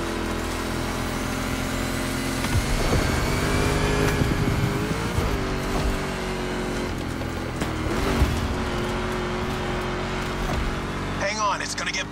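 A Ford Mustang GT engine in The Crew Motorfest, a steady loud drone that swells and shifts pitch with gear changes and brief tire noise, with a voice talking over the driving.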